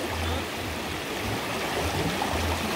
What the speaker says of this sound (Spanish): Este río casi me lleva a mí.